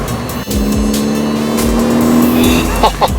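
A Ford car engine drives past at roughly 40 mph with a gruff, throaty note, a steady close hum building slightly before fading, with a few faint knocks near the end.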